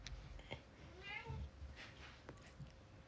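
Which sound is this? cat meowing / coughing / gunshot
cat meowing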